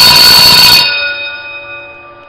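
A loud school bell rings in a harsh, continuous electric clang, then cuts off abruptly and leaves a fading metallic hum.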